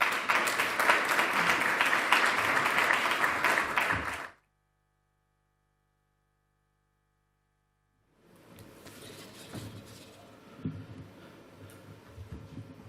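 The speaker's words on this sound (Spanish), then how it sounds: "les pido que le reciban en esta tribuna con un fuerte aplauso" A conference audience in Madrid applauds to welcome a speaker at an opening session, with a loud, dense burst of clapping that stops abruptly and returns later as softer, scattered applause.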